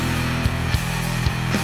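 A dense rock band mix plays back, with a steady wash of guitars and a snare hitting at a regular beat, loud and continuous with no talking.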